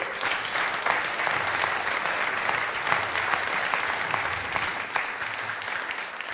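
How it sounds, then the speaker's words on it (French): Sustained applause from an audience honouring an award recipient at a civic ceremony, a dense, steady wash of clapping that fills the whole stretch and eases slightly toward the end. "Et je voudrais pour ça que l'on puisse tous vous applaudir."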